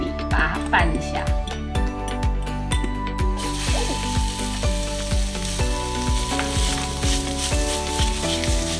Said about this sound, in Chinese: 油热了之后呢，我们把油倒出来，然后倒在豆豉跟大蒜的碗里